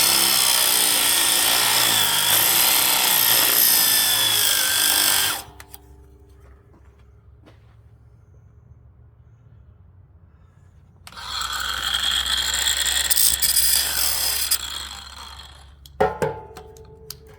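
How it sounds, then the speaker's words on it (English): A 110-volt angle grinder cuts metal on a Wolfe Ridge wood splitter, a loud, steady whine that stops for several seconds, starts again, then ends in a few sharp clanks. "Gonna have to get out the 110 volt grinder."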